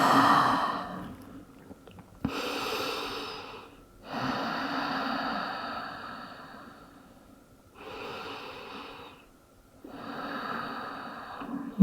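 Slow, deep breaths in child's pose during a yoga session, close and clear, with long inhales and exhales in a steady rhythm separated by short quiet gaps.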